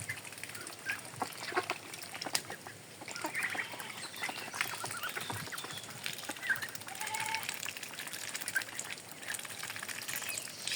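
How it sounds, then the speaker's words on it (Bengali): Ducklings raised as a growing backyard brood quack in scattered, overlapping calls mixed with other fowl, a busy steady farmyard chatter at moderate distance with no talking. "আমার ছোট ছোট হাঁসের বাচ্চা"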